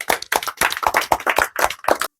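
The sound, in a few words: audience clapping for the winner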